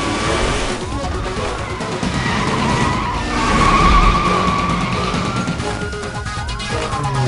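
A BMW M3 in the Need for Speed Most Wanted racing game skids with a continuous loud tire screech over a roaring engine. The sound is dense and close, and voices are faintly mixed in beneath it.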